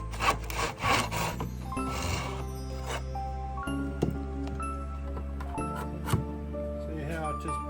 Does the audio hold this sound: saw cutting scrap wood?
yes